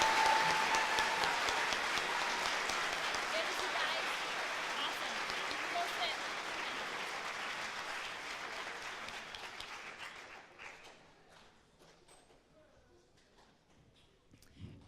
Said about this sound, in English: Let's give all of these families a round of applause.